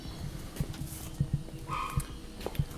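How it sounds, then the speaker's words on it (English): A Chihuahua barks in a garage during a car repair, a few small yips spaced out at a distance, fairly faint under steady background hum. "Chihuahua barking in the background."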